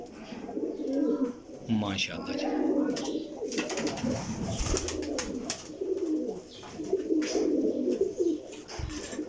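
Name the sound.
Teddy pigeons cooing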